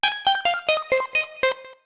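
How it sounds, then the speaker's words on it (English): Arcade-flavored pluck synth preset in Serum, a quick run of seven bright, buzzy chiptune-like notes stepping down in pitch, close and clean with no voices. "Pluck Play comes straight out of the arcade hall and it sounds like this."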